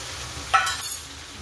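Finely chopped potato tipped into a pan of frying masala for a green pea and potato dish, one brief burst of sizzling and stirring that quickly settles back into a low, steady fry, close by with no talking.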